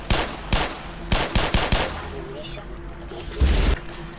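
Gunfire in the video game Black Mesa: a series of sharp, punchy shots in uneven bursts, loud and close, followed by a heavier thump near the end, with a faint voice in the background.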